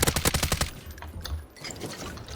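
A rapid burst of automatic gunfire in the video game Warzone, loud and close, cracking in quick succession for about half a second before trailing off into quieter background noise.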